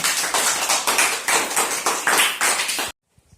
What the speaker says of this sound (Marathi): मग सर्वांसाठी एकदा जोरदार टाळ्या होऊन जाऊ द्या